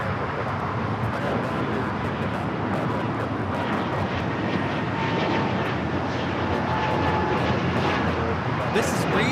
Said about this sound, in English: This is Breeze Airways 535 taking off to Richmond, Virginia on the A220-300